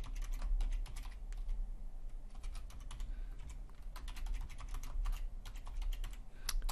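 Fingers type a username and password on a computer keyboard, producing quiet, close clicky keystrokes in quick irregular bursts with short gaps, alone without any talk.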